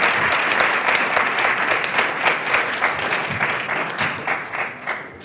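A crowd at a university case competition on social responsibility applauds the competing team, steady, full clapping that carries throughout and breaks into sparser, distinct claps near the end.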